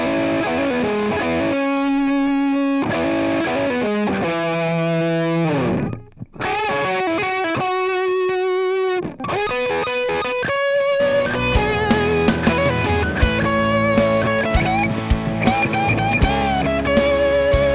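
A distorted electric guitar through an amp simulator plays a sustained lead melody with held bends, building into a fuller, busier passage with more layered sound toward the end.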